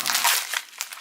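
Crinkly packaging being unwrapped from a Seiko watch import box: a short burst of crumpling and rustling, close and moderately loud, with a couple of sharper crackles.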